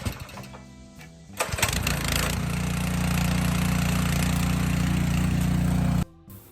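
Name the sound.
pressure washer engine starting and running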